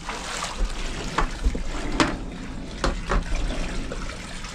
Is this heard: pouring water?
yes